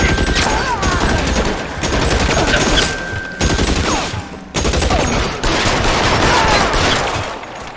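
Dense gunfire in the video game L.A. Noire, loud sustained bursts of rapid automatic shots broken by brief pauses, close and harsh, with no talking.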